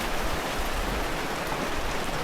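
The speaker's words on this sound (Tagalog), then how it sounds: "umuulan na." Steady rain falling in Bali, a dense, even hiss of drops on surfaces with no pauses, close and moderately loud throughout, no voices.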